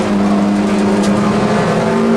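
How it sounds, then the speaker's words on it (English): A Toyota MR2 race car in the Millers Oils Toyota MR2 Championship at Silverstone, turning through Village and the left-hander, its engine droning loud and steady at sustained revs throughout. "The Hennessy Motorsport prepared car of John Wilson there turns its way through Village, now through the left-hander and down towards the link"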